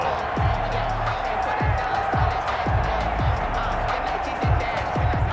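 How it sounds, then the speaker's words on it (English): A stadium crowd roars in Madden NFL 21 during a Cleveland Browns game, a continuous, loud wash of cheering. Repeated low thumps sound about every half second underneath it. "the crowd getting into it as we come up on a big 3rd down"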